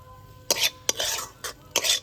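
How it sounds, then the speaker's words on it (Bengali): Cauliflower and grated potato being worked together with ground spices for a paratha filling, four short bursts of scraping, rustling mixing against a quiet background, close by with no voices. "ফুলকপি আর আলুটাকে খুব ভালোভাবে মিশিয়ে নেব"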